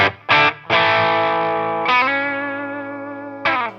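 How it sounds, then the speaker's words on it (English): An overdriven electric guitar rings out with a crunchy, saturated tone, a few short picked hits followed by long sustained chords that slowly decay, loud and alone with no talk. "If I was asked to describe an overdriven guitar tone, I might use the words crunchy or saturated"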